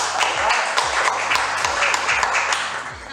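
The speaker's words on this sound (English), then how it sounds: "A round of applause" An audience applauding Natalie Case at the ReadersMagnet Book Confab in San Francisco: a close, lively patter of many hands clapping steadily for a few seconds.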